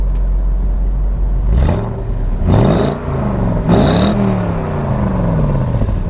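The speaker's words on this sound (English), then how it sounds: "Go ahead and rev it up a little bit." A 1994 Corvette ZR1 with 405 hp and a six-speed revs three times in quick succession, each blip rising and falling over a steady loud idle rumble.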